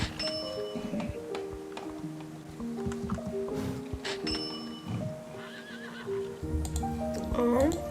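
Horses whinny and neigh repeatedly at a bazaar in a video game, with clip-clop hooves and a busy layered game soundscape throughout, while a person talks over it.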